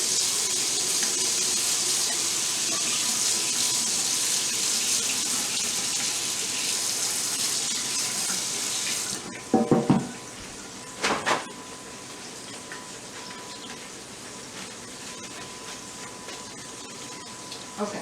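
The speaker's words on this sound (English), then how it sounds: "Let me rinse this." Tap water runs in a steady hissing stream for about half the time, then stops, followed by a few clattering knocks and quiet handling sounds in a kitchen.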